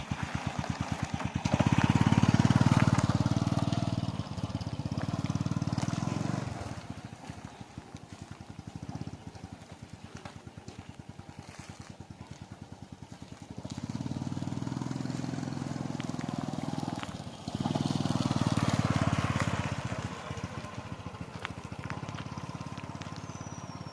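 A Honda Wave 100s motorcycle is ridden around nearby, its small engine droning in two longer bursts with a lower idle between them, moderately loud with some outdoor background noise.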